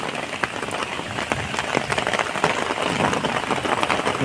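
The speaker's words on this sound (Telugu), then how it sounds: "వర్షం పడుతుంది" Steady rain patters densely on a surface close by, with scattered louder drops tapping through the continuous hiss.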